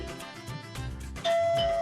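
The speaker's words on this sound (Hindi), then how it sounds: "डोरबेल बज रही है।" A doorbell chimes clearly with a bright ding-dong tone, ringing out over faint background music.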